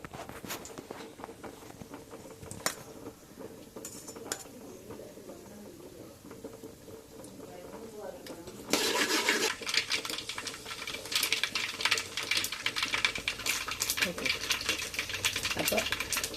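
Mustard seeds splutter in hot oil, first as scattered sharp pops over a quiet background, then as a sudden dense burst of crackling that keeps going loud to the end.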